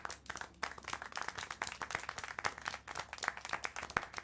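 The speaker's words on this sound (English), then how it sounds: "How can you clap?" Hands clap in distinct, uneven strikes in the video game Syberia: The World Before, a close series of sharp claps with brief gaps, no voices over them.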